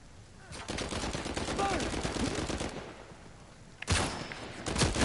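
M14 rifle fire in the Uncharted video game, a sustained rapid volley of shots followed by a short pause and a second burst, with game sounds underneath.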